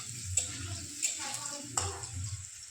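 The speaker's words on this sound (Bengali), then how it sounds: "খোসাটা হালকা হালকা ভাজা হয়ে গেছে," Watermelon rind frying in a pan of oil gives a soft, steady sizzle with a few sharp clinks of a utensil against the pan, while a voice talks quietly over it.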